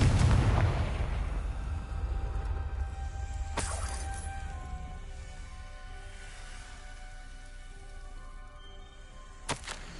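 Confringo fire spells burst in the Hogwarts Legacy video game, a heavy booming blast opening the clip, followed by two sharp cracks about four and nine and a half seconds in over a constant low rumble.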